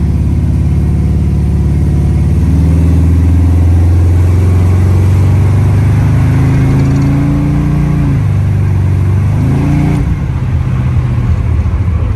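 A twin-turbo Cutlass 442 with a built 427ci engine and 4L80E automatic drives under steady load. Its loud, continuous engine drone rises in pitch, then drops sharply with each gear shift, twice near the end. No voices are present.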